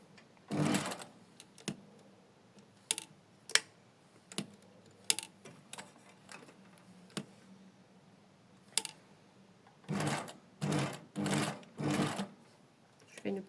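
A sewing machine stitches fabric in a couple of rapid whirring bursts, near and clear, with short pauses, a few clicks and handling noises between them and a final cluster of short runs.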